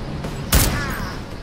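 A single loud, sharp gunshot from a firearm in the video game Deus Ex: Mankind Divided, a burst around halfway through over a faint steady game background.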